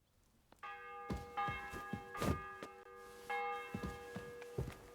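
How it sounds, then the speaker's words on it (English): A church bell in the medieval game world of Kingdom Come: Deliverance 2 rings several times, ringing tones overlapping with soft thuds and footsteps, moderately distant and without speech. "The bell's ringing for Hans the 5th time."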